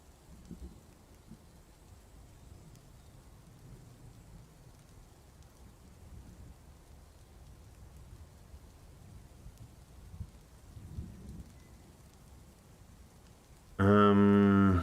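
Steady rain from the game Dwarf Fortress hisses at an even, moderate level with a few soft low rumbles of thunder beneath it, and a short louder burst cuts in at the very end.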